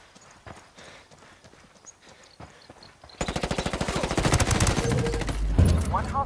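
Automatic gunfire in the Ghost Recon Ghost War multiplayer game: faint scattered shots at first, then about halfway through a loud, dense burst of rapid fire that continues to the end, with voices underneath.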